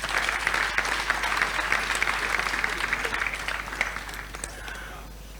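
An audience at an official launch event bursts into sustained, dense clapping that gradually thins and fades toward the end.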